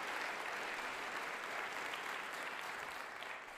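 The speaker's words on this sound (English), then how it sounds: "Give her a round of applause again" Audience applause for Angeline at the PINC 2023 talk, a steady dense wash of many hands clapping throughout, fairly distant and fading slightly at the end.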